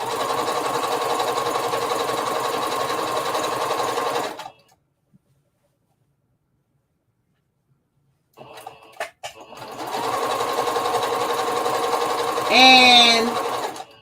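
A sewing machine runs steadily while hemming a circle dress, a continuous motorized whir that stops for several seconds of silence, then resumes with a few clicks before humming on again.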